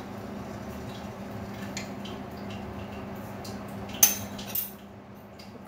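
A metal spoon adds tea leaves while tea is made, giving two quick clinks a moment apart over a quiet, low background hum.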